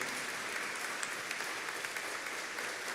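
A Catholic congregation at Mass applauds in a soft, steady, distant patter of many hands, with no single clap standing out.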